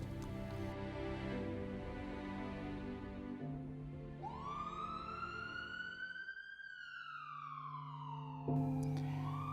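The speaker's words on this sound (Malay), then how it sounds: "Saban hari akan kedengaran bunyi siren ambulan di jalan raya." An ambulance siren on a road, a rising and falling wail that sweeps up and then slowly glides down, moderately distant over steady traffic noise.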